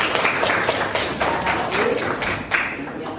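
Sixth-grade students in a classroom clapping their hands, a brisk, uneven patter of many hands in short bursts, close and moderately loud.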